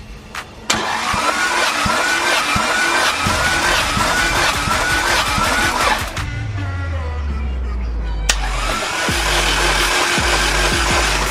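A Honda B20Z1 engine with zero compression cranks and revs loudly and unevenly, dies away briefly, then the starter grinds again, close up with no voices.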